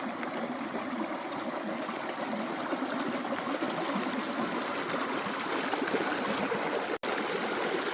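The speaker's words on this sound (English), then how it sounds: "It did have a creek running through it." A creek runs through a private campsite in the Idaho and Montana backcountry, making a steady, close rushing and gurgling flow that continues alone without pause.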